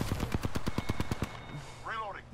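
Loud, rapid automatic gunfire in Apex Legends rattles off about a dozen close shots in quick rhythm, then stops and a voice speaks briefly.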